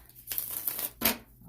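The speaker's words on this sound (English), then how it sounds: "I will go ahead and shuffle them a couple times here" Hanson Roberts tarot cards shuffled by hand in two short passes, a papery riffling rush of about half a second each, close and fairly quiet with no talk.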